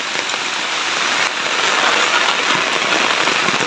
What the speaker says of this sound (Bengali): দেখেন পানি প্রচুর পরিমাণে পানি বেরিয়েছে, প্রচুর পরিমাণে পানি বের হইতেছে।